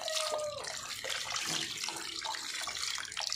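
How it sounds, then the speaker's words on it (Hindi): Sweet potatoes being washed under a running tap in a Mangalore village kitchen, with steady splashing water and bursts of clattering and rubbing as the tubers are handled. "स्वीट पोटैटो है, इसको अच्छे से धोने का।"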